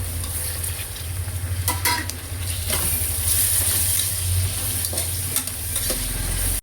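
Cut tomatoes, two large ones, hit a hot pan for a mutton pulao and are stirred, giving a loud, steady sizzle with scraping stir strokes throughout.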